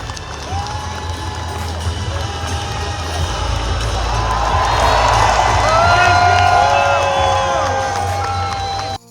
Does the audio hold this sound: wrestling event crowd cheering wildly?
yes